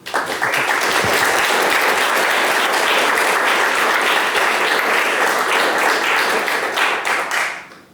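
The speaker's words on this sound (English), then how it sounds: "Round of applause, please." An audience breaks into loud, sustained applause, dense clapping that fills several seconds before fading away at the end.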